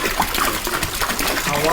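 Hawaiian Punch pours into a cleaned kitchen sink for jungle juice, a loud, continuous gushing splash lasting under two seconds, close by.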